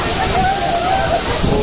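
Kempty Falls in Mussoorie roars steadily as wind whips spray off the waterfall, a loud, dense, continuous rush of water with wind buffeting, close by and unbroken.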